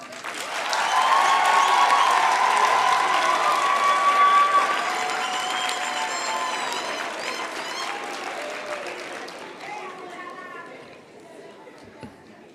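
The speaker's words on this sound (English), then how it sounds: "I would now like to ask our graduates to applaud their families, friends, and spouses for their support over the years" Graduates at a university graduation ceremony applauding their families and friends, loud sustained clapping from a large hall that gradually thins and fades away toward the end.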